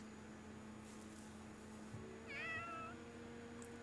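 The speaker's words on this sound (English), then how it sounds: "There's a kitty." A cat meows once in Fire Emblem: Three Houses, a short clear call with rising and falling pitch over a steady game music drone, with no talk.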